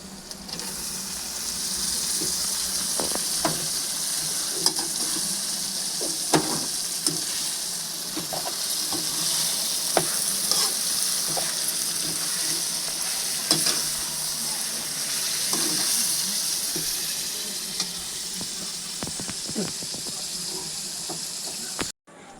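Chicken frying in a pan for chicken curry, a loud continuous sizzle with intermittent stirring clicks and scrapes throughout, close up and steady.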